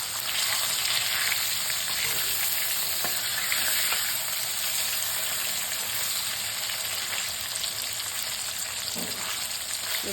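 Salted fish slid into hot oil crackles and sizzles steadily, a continuous close frying hiss with faint spatters and a few light stirring knocks.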